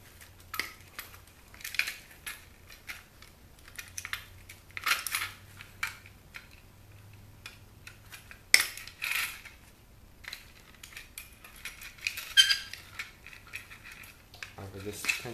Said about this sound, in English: I'm just going to snip off these wires.